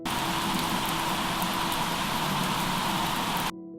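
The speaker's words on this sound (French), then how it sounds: "En ce moment, il pleut, ça s'arrête pas." Steady rain falls in a loud, dense, even hiss that continues unbroken for several seconds before cutting off abruptly near the end.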